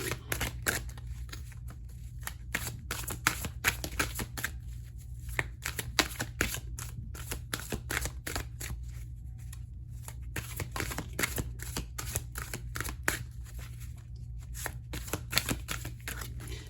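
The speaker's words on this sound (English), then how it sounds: "Sorry to make you watch all the shuffling" Continuous shuffling of a tarot deck, rapid crisp riffles and slaps repeating close by over a low steady hum.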